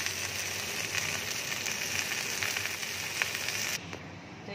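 Okra frying in hot oil gives a steady, dense sizzle and hiss close by that runs without a break, easing off slightly near the end.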